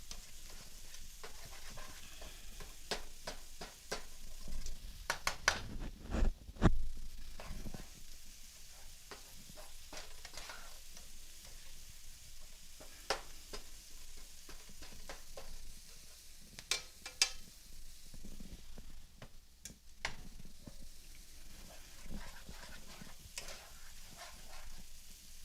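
Turkey sausage with chicken seasoning and bacon sizzling steadily in a pan, a constant close frying hiss broken by sharp clicks and the scrape of stirring, with no talking.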